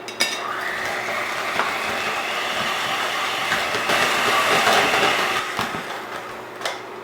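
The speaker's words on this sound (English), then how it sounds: "use the mixer." An electric kitchen mixer whirs steadily in a plastic bowl while mixing a rice dish, a continuous rattling, buzzing drone with a few clicks and knocks, getting a little louder in the middle and then easing off.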